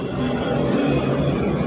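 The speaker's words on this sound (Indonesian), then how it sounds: "Ada suara pesawat lewat." A fixed-wing airplane passes overhead, a steady broadband engine roar holding level for its full length with nothing else over it.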